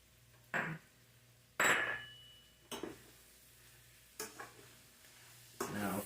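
Flour being stirred into a hot sizzling pan, with a steady background sizzle broken by about five short, loud bursts of scraping and stirring strokes, close up.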